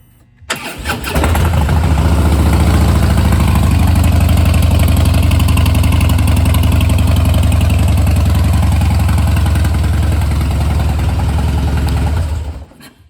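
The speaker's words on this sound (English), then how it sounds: "I'm sure you heard, it also has that Vance and Hines exhaust" A 2014 Harley-Davidson Heritage Softail Classic with Vance and Hines exhaust starts up and settles into a loud, deep, steady idle that runs close and alone for about eleven seconds before cutting off.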